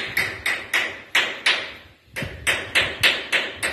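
Rhythmic hammer blows ring out on the hull of an old steel trawler being stripped, about a dozen sharp metallic strikes in a steady beat with a brief pause midway, close and loud.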